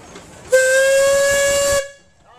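A Case steam engine's whistle blows one long, loud, steady blast of about a second and a half, its pitch held firm and bright, then cuts off sharply, leaving a quiet hiss behind.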